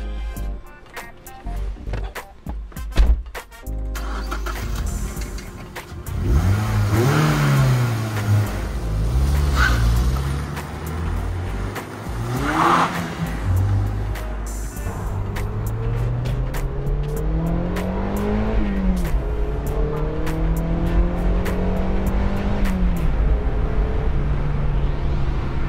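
A 2010 Mazda MX-5 Miata engine revs up and down repeatedly, rising and falling in pitch as the car drives, with brief louder bursts early on.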